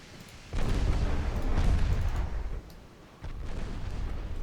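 Naval guns booming in the game Dreadnought Improvement Project, two heavy low blasts with rolling rumble between them, moderately loud and without talk.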